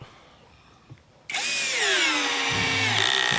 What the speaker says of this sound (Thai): เดี๋ยวเรามาลองเจาะกันนะครับ